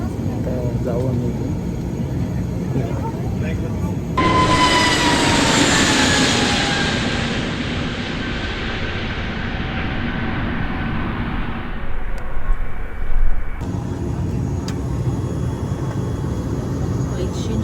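Steady cabin roar of an IndiGo airliner heard from inside, a broad engine and airflow hum that swells abruptly, holds with a slowly falling whine, then drops back to a lower drone.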